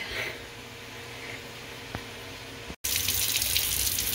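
Shrimp are rinsed under a kitchen tap, the water starting softly and then gushing into the sink with a loud, steady hiss after a brief stop.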